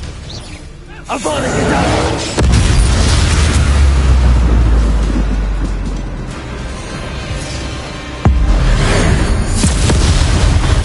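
Spell explosions in Hogwarts Legacy combat: deep, loud booming blasts with heavy low rumble, a sustained roar around mid-clip and another sharp hit near the end, with voices calling out spells over the noise.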